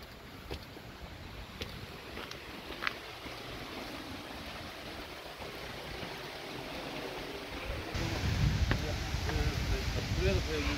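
Rushing water at Kurşunlu Waterfall near Antalya: a steady, broad roar that stays constant and swells louder for the last few seconds, with scattered faint voices and sharp clicks over it.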